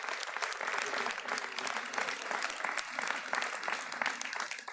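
Audience applause at a mayor's New Year wishes ceremony following a photo exhibition of local athletes. Steady, dense clapping from a sizeable crowd fills the whole stretch at moderate volume.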